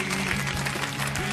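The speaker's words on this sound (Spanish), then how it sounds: "Fuerte aplauso para ellos." Studio audience applause on a Basque television talk show about consumer complaints, a steady wash of clapping that runs the whole moment at a moderate level, with a low hum beneath it.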